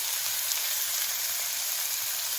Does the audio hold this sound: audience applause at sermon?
no